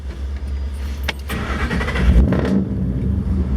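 A 5.0 Coyote 32V V8 in a 1942 Ford Sedan Delivery resto mod starts up close by, with a short cranking burst, the engine catching and revving, then settling into a deep rumble.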